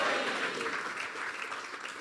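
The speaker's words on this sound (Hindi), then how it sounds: "जोरदार तालियां यीशु के लिए." Congregation applauding in a church service, a steady dense wash of clapping held at an even level throughout, with faint crowd voices mixed in.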